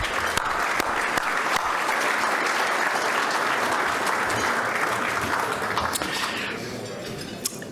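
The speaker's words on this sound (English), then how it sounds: "Let's give them a big round of applause." Dense, sustained applause from a large dinner audience at an annual council gala, steady and loud for several seconds before thinning slightly at the end, with a few glassy clinks mixed in.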